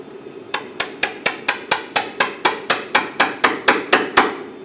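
A brass punch is struck about fifteen times at an even, quick pace to drive out a stuck horizontal bolt on a 2000-2006 Toyota Tundra power steering rack, each blow a sharp close metallic hit.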